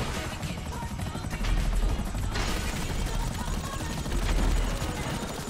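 Gunfire rattles in rapid, dense bursts in the video game GTA V Online, loud and continuous over the drone of a nearby helicopter.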